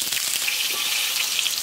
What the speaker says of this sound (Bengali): লবণ আর হলুদ দিয়ে আলুগুলোকে একটু সুন্দর করে ভাজব